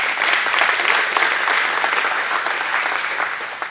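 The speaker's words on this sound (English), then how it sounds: "So we applaud you as well." Audience applause, loud and dense clapping that holds steady throughout and tapers slightly at the end.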